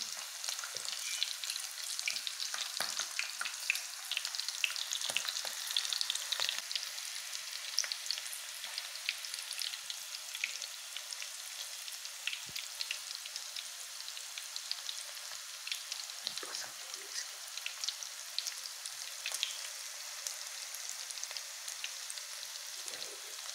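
Battered onion rings crackle in a pan of hot oil, a constant close hiss broken by bursts of sharp popping and spitting, heard alone.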